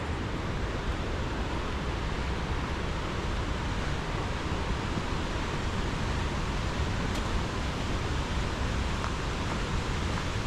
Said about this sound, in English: Dang waterfall up here.